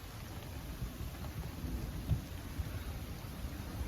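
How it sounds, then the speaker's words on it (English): Rain falls steadily outdoors in autumn, making a constant close hiss with a low rumbling undertone and a couple of soft thuds, with no voices. "it's raining again"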